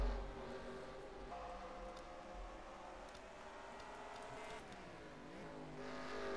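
NRX Meijer Cup race cars run on a street circuit at Detroit's Belle Isle, their engines droning at a distance with rising and falling revs and a pitch dip near the end, fairly faint.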